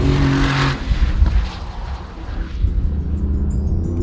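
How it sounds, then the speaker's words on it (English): A Mercedes-AMG GT S sports car accelerating hard: a loud, close exhaust roar that surges, dips briefly and then builds again, with engine growl dominating throughout. "it's the GTS that delivers on acceleration and a godly menacing exhaust note."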